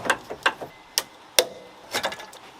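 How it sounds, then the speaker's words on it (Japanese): Hoses on the oil cooler of a Mazda RX-7 FD3S being cut during teardown give a series of crisp, close snips and clicks, irregularly spaced, with short quiet gaps between them. "まずはオイルクーラーのホース切っちゃいます。"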